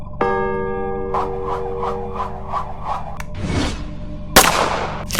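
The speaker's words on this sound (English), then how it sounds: "he draws his pistol and opens fire" Pistol shots fired at an undead sailor in an animated tabletop-game playthrough, a short burst of sharp cracks near the end, over ringing tonal effects and scraping sounds.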